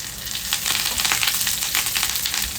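Onions and fresh curry leaves fry in hot oil, a steady dense sizzle with crackling pops throughout, fairly loud and close, with no voices.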